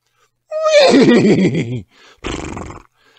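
A person imitates a horse's whinny with their voice: a loud, wavering neigh lasting over a second that descends in pitch, then a short breathy snort-like burst follows after a brief pause.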